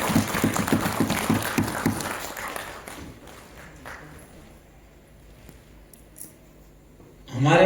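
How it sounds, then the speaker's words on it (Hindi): An audience at an International Women's Day 2025 event in Pithoragarh claps in a short burst of applause that dies away into a quiet hall, followed by a loud sound at the end. "आपकी तालियां बजती रहनी चाहिए साथियों।"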